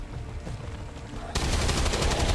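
A sudden, loud burst of gunfire in modded XCOM 2 cuts in partway through and keeps a dense, sustained roar to the end, following a quieter stretch of game ambience.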